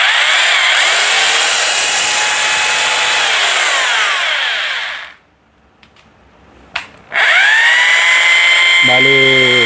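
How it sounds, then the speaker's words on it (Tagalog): Hilti TE2M hammer drill running loud and close, with a steady high whine that winds down, stops briefly with a few clicks, then starts again at full speed before a short rising tone near the end. "Hammer drill siya. So, dalawang function siya."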